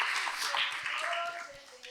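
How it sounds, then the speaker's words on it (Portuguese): An opening-session audience at a colloquium on habitat, citizenship and agroecology applauds with a dense, steady clatter of clapping, while voices talk over it throughout. "Então, uma salva de palmas para ela, né?"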